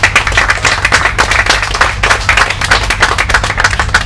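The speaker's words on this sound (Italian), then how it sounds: "Francesco Minniti e Aurelio Aceto, quindi ancora un applauso per loro due." Audience applause at a poetry book presentation, dense and loud clapping from many hands that continues without a break and with no speech over it.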